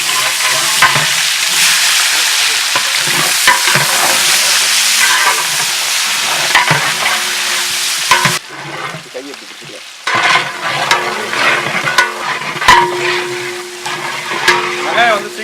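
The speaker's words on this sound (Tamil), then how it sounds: "வெங்காயம் வந்து நல்லா வதங்கிடுச்சு" Onions and masala for turkey biryani sizzle loudly in a hot pan, with repeated scraping and stirring strokes and a brief dip in the frying noise before it picks up again, close and continuous.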